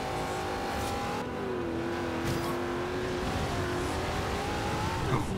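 Nissan Skyline, converted to rear-wheel drive, racing in the Forza Horizon 2 video game: a steady engine drone with shifting pitch sweeps, continuous and close, with a brief tire screech near the end.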